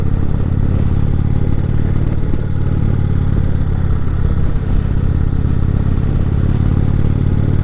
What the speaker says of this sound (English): on the motorcycle, I'm going a little bit faster and I can go up the hills a little bit quicker